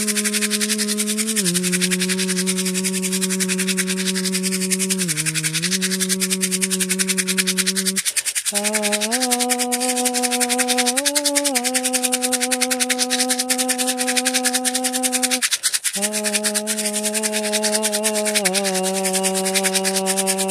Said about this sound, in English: A little bit of the rattle.